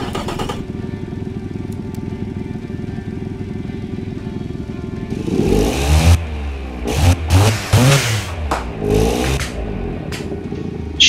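A 0.7-litre Smart engine in the car-design game Automation idles with a steady buzzing drone, then revs hard in several rising and falling bursts, loud and close.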